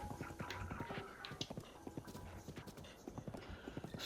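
A horse gallops in Zelda: Breath of the Wild, its hooves clopping in a quick steady rhythm over the ground, moderately close and unbroken by voices.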